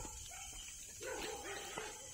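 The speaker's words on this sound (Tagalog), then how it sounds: "Kasi naman, daming pumapagot na aso." Dogs near a creek by a banana grove at night, barking and yipping faintly from a distance, with scattered short yelps over a quiet outdoor background.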